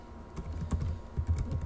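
Fast, uneven clatter of keys being typed on a computer keyboard while PHP code is written, a close run of light clicks with no talking.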